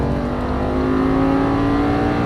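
Audi R8 at full throttle on a race track, a loud close engine roar holding a steady high drone as it pulls hard, heard alone with no talk.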